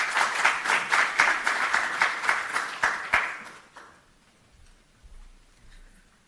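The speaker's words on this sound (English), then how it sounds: "please give George Barrett a wonderful round of applause" Audience at a university innovation showcase applauding a speaker, a brisk crowd of clapping that fades out after about four seconds into near quiet.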